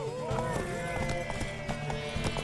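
Horse hooves clip-clop in a quick run with a neigh in the Witcher 3 video game, set under steady game music and fairly quiet.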